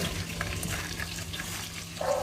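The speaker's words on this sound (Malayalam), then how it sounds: "ഇപ്പോഴത്തെ ഞാൻ ചിക്കൻ പൊരിക്കുന്നുണ്ട് കണ്ടോ" Chicken frying in butter in a hot pan, a steady soft sizzle and hiss throughout, with a brief brighter crackle near the end.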